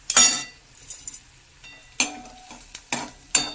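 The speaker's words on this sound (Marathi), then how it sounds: "कांदा परतवतोय तो आता" Onion being sautéed in a pan, with intermittent scraping stirs and metallic clinks of a spatula against the pan over faint sizzling.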